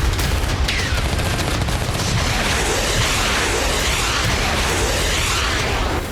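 Sustained gunfire from Russian combat robots, dense overlapping bursts of shots rattling continuously and loudly throughout, with no pauses or voices.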